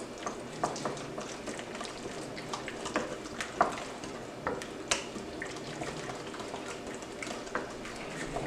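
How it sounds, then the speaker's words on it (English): Creamy macaroni salad being stirred in a bowl, a steady soft wet squelching and scraping with small irregular clicks, close up and continuous with no talking. "Give this a mix."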